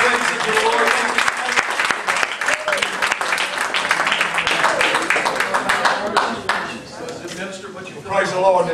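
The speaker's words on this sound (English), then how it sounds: "Let's give a hand clap of praise to the Lord." A church congregation claps their hands in praise, a loud bright burst of many hands with scattered cheers and voices mixed in, thinning out toward the end as a speaker talks over it.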